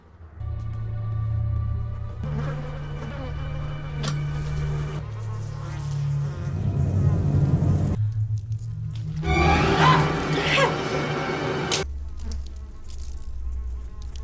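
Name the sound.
swarm of flies buzzing in a basement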